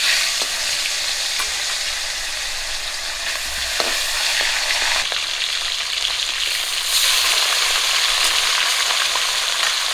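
Rohu fish frying in oil, a close, loud, continuous crackling sizzle with occasional light clicks and a brief low bump, swelling slightly near the end, with nobody speaking.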